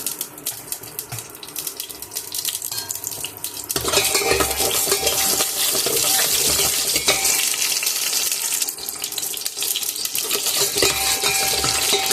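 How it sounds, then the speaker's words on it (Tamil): Mustard seeds are dropped into hot cooking oil in a home kitchen. Quiet handling noises give way to a sudden loud, steady sizzle and crackle that continues to the end. "எண்ணெய் போட்டுடலாம். கடுகு போட்டுக்கலாம்."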